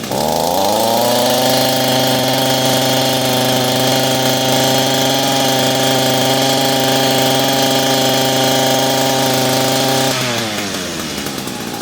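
An Echo SRM-225 string trimmer's two-stroke engine, just fitted with a new fuel line and carburetor kit, revs up and holds a loud, steady high-pitched buzz close by before dropping back toward idle.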